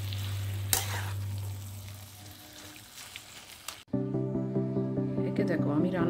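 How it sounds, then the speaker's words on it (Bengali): Chopped chilli and coriander sautéing in a pan, a steady sizzle at first with a brief stir, then music and background voices coming in loudly over the cooking halfway through. "এটা দিয়ে এখন ভালো করে বেশ খানিকক্ষণ টাইম নিয়ে কষতে হবে"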